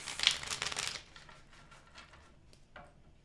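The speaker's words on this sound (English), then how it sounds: "2 more shuffles. All right. Last shuffle." Tarot cards riffled close up in a brief, crisp burst of shuffling that stops after about a second, leaving a quiet room with a few soft taps.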